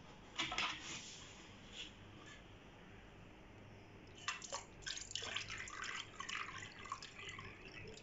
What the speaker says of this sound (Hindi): तो अभी इसमें पानी डाल देंगे।